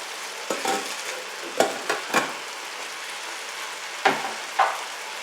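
A spiced sauce stirred in a cooking pot, several distinct scraping strokes of a spoon against the pot in irregular bursts over a quiet simmering background, close by with no talk.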